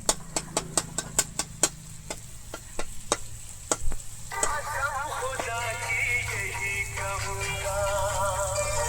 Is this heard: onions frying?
yes